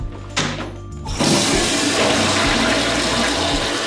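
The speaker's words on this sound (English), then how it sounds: "Let's give it a quick little flush test." Toilet flushing in a Luxor Las Vegas hotel bathroom: a sharp click of the handle, then a loud, steady rush of swirling water that fills the small room and keeps going.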